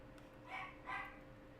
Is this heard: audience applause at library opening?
no